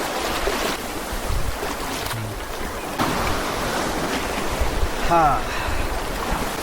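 Sea waves washing in at Laxmanpur beach in the Andaman Islands form a steady, loud roar of surf mixed with wind noise, with a brief faint voice near the end.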